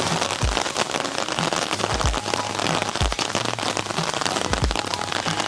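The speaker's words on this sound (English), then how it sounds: "As you can see, it's raining a little bit" Light rain patters steadily on surfaces in a backyard with coconut trees, a soft continuous hiss broken by a few scattered louder drop hits, with no one talking.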